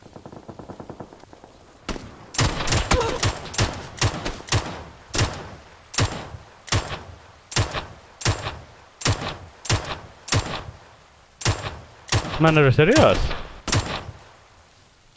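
Gunfire in an online shooter game comes as a long run of sharp, loud bursts, one about every half second, and a player's voice breaks in briefly near the end.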